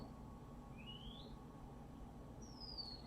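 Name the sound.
birds singing outdoors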